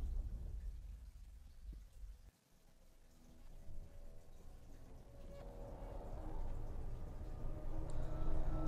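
Rain pours in a stormy sea scene from a video game, with thunder rumbling low underneath, the steady hiss briefly dipping before building back up, moderately loud with no voices.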